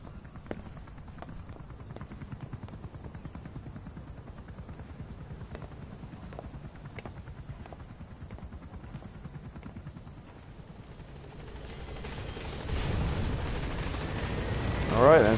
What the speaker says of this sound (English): So it looks like the chopper's buggering up.